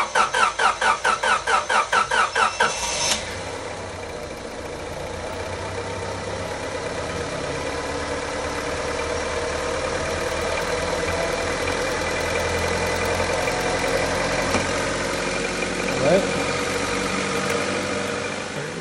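A 2000 Honda Civic, freshly reinstalled and low on coolant, cranks with a rapid rhythmic starter chatter for about three seconds, then catches and settles into a steady, close idle that swells slightly as it runs.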